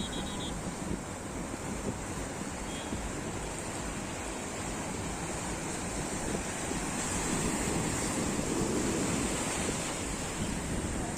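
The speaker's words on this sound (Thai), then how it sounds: "คลื่นแรงใช้ได้เลย" Strong sea waves break on a beach in Goa in a continuous close roar of surf, overlaid with buffeting wind noise and no pauses.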